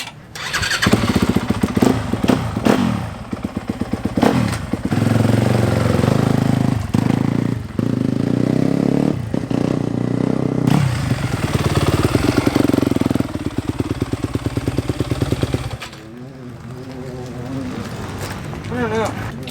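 A motorcycle engine revving hard and close during a test ride at a racing event, loud sustained roar with rising and falling throttle, then dropping to a rougher idle near the end, with voices heard over it.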